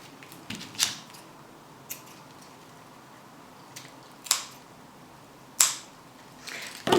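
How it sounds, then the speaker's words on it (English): Scissors snip the string on a hand-tied bouquet of spring flowers, giving several sharp close-up cuts, roughly five, spaced irregularly with quiet rustling between them. "And cut the string."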